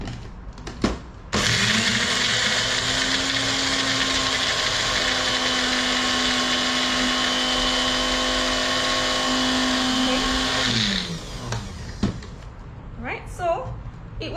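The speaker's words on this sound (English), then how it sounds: "I'll put it in the blender and blend all these lovely ingredients together first." A kitchen blender whirs Penang laksa paste ingredients, a loud, steady, high-pitched motor whine running for about ten seconds before it stops, with a few clicks before and after.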